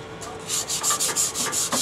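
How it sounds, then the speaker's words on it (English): Sandpaper of 220 grit rubbing back and forth across a metal lathe's sliding top surface, a steady run of about six close, scratchy strokes with no talking. "I'm using a little sandpaper to get some Vince Welch, and this is 220"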